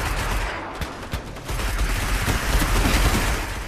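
Rapid, continuous vehicle-weapon fire in Destiny, dense bursts of shots with low booms underneath, loud and sustained throughout.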